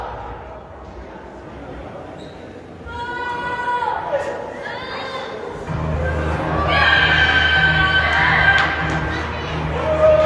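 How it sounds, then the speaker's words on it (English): Wrestling crowd at an Arizona indie show booing Savio Vega, a steady mass of voices with sustained jeering swells that grow louder in the second half, with shouts and chatter mixed in. "They're booing Savio Vega."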